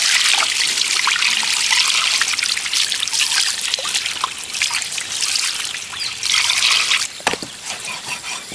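Water trickles and pours into a cooking pan at an outdoor village cooking spot, a steady close splashing stream running for several seconds with a brief break near the end.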